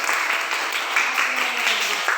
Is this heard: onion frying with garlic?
no